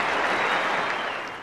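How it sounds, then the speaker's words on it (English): Cricket crowd at a Test match between Australia and Pakistan, standing and applauding as a batsman walks out, a dense, steady wash of clapping and cheering that fades slightly toward the end. "Everyone off the backside, standing up, cheering him out to the middle."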